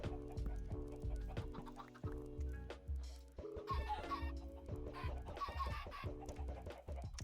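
Chickens in the Minecraft video game cluck repeatedly in a steady stream of short calls, loud and close, with no talking over them.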